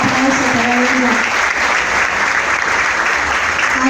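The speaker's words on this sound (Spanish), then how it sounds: "fuerte el aplauso para ella" A crowd at an evening talk in Tamboril keeps up loud, continuous applause, an even roar of clapping with a faint voice at the start.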